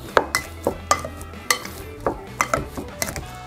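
Boiled potatoes with butter, salt and black pepper being mashed in a pot, a close sequence of regular soft thuds and metallic scrapes repeating about every half second.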